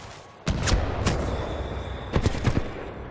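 Gunfire in the video game Titanfall 2, several sharp shots and bursts in quick succession over a steady background roar.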